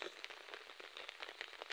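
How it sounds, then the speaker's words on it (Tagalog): Rain falling during a fishing trip, a faint, even patter of drops with scattered soft ticks, steady and distant, with no voices. "inabutan na tayo ng ulan"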